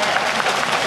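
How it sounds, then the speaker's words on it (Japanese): Warm, steady applause from the spectators' stands at a Tokyo-tournament high school summer baseball game, a dense, even wash of clapping from a large crowd that holds constant throughout. "今小川高校の観客席は温かい拍手が"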